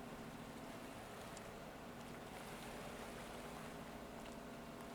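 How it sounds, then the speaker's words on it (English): Steady broadband wash of water sloshing around in the Stormworks game, a continuous churning rush that holds an even level throughout with no voices. "the sound of the water just slooshing around."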